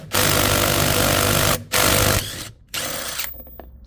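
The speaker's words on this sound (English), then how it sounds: "You're gonna need a drill with a 17mm socket on it" A power drill fitted with a 17mm socket spins off the steering wheel nut on an Evolution D5 golf cart, giving loud rattling, hammering bursts that stop briefly twice and then settle into a lower whir.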